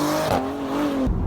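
Brief, loud burst of a Porsche Panamera accelerating, its exhaust note holding a steady rising drone before cutting off abruptly near the end.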